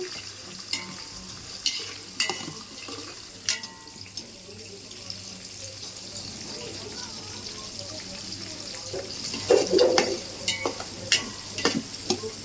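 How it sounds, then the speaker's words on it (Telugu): Eggplant and green chilies frying in a pan for a home-cooked meal, a soft sizzle with occasional scrapes and stirring clatter, plus a louder burst of utensil noise near the end, with some talking in the background. "ఈ వంకాయ పచ్చిమిర్చి కూడా దోరగా వేగాలండి"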